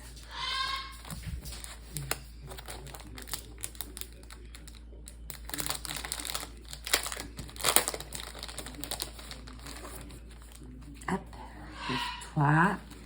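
A handmade paper greeting card with layered paper is opened and handled, giving scattered crinkles and rustles close by, mixed in with a person talking throughout.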